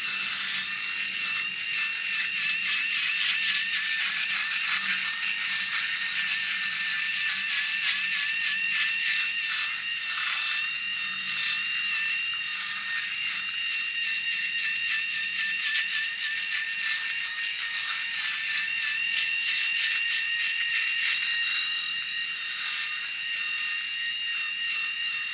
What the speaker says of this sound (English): And now let's start shaving myself with the shaver.